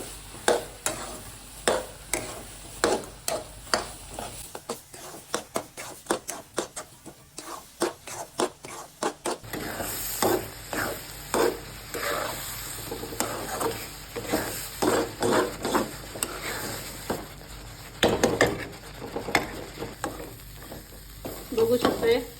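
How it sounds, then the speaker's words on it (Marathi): A spatula scrapes and stirs puran filling made with half a kilo of finely grated jaggery in a pan, producing repeated rhythmic scraping strokes with a soft sizzle, close and fairly loud, with no talking. "बारीक केलेला अर्धा किलो गूळ छान पुरण आपल्याला परतून घ्यायचंय"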